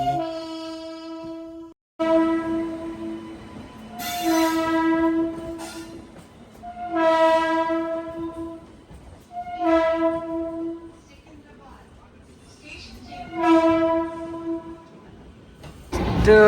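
A train nears Secunderabad railway station, its horn sounding loud and sustained in five separate blasts over a steady rumble of the moving cars.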